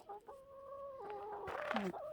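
A rooster on a homestead crows in a short, warbling call with a rising and falling pitch, fairly close but quiet, ending with a few harsher notes.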